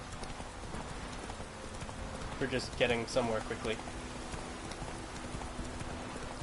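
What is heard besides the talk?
horse hooves galloping on road in video game The Witcher III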